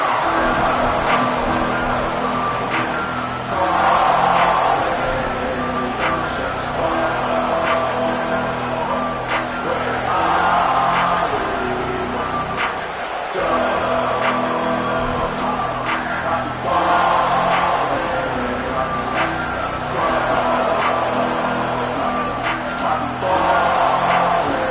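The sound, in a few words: stadium crowd in the video game College Football 27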